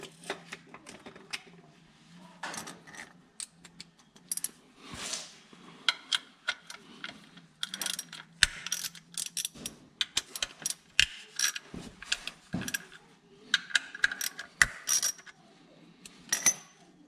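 Socket ratchet on a 2016 Mitsubishi ZK Outlander CVT during a filter service, busy bursts of quick metallic clicking and rattling with tool clatter throughout, close and moderately loud.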